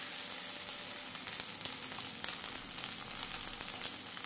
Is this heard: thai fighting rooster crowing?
no